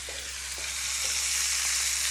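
A T-bone steak sizzles steadily in a cast iron pan while it browns, a continuous bright crackling hiss over a low hum that holds constant for a couple of seconds.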